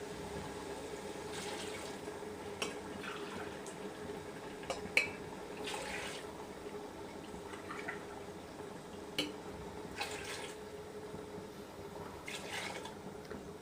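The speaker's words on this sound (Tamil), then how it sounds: "இதோட நம்ம இப்போ இந்த மட்டன் வேக வச்ச தண்ணியை சேர்த்துக்கலாம்." Mutton cooking water, about four tumblers taken from a pressure cooker, being poured into a biryani pot, a low steady liquid wash with scattered small clinks and drips, fairly quiet with no talking.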